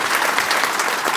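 Dense, steady applause from a mushaira audience in Palandri, Azad Kashmir, filling the whole moment with continuous clapping and no voices over it.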